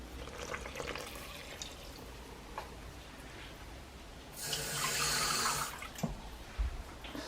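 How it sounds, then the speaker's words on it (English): Water poured from a measure into a bowl of bread ingredients with chia seeds, a soft trickle followed by a brighter splashing pour of about a second, quiet and close. "Next is the water."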